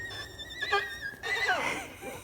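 Manzer, a horse, lets out a wavering, quiet whinny with rising and falling pitch, fairly distant and alone at a pasture gate.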